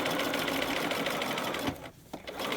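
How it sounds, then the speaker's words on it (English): A sewing machine stitching piped bias facing runs in a fast, steady whir close up, pausing briefly near the end before starting up again, with no talking over it. "the right as you sew, and the foot will stop up against the rat tail"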